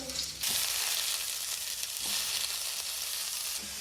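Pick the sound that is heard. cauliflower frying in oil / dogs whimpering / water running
cauliflower frying in oil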